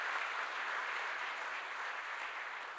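A church congregation at a Korean evening revival service claps to welcome the pastor's wife, a steady, dense round of applause throughout with no talk.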